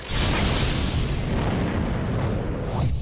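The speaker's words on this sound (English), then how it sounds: "When you come back into the house and turn the lights on, it sparks an explosion." A gas explosion inside a house, heard as a loud, sustained roaring blast that fills the whole clip with rumbling, crackling noise and no voices.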